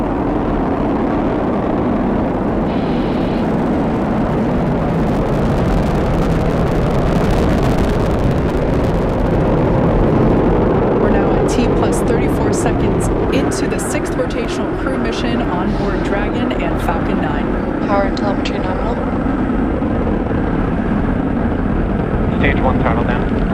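A SpaceX Falcon 9 rocket lifts off for NASA's Crew-6 mission, its nine Merlin 1D first-stage engines giving a steady, broad, distant roar with wind buffeting, while a voice speaks over it.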